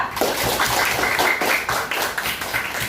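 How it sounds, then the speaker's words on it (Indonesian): Classroom applause for a student group after their presentation, a dense patter of hand claps filling the room for a few seconds with no talking over it. "tepuk tangan buat kelompok 2"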